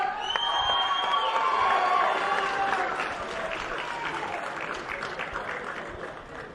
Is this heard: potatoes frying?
no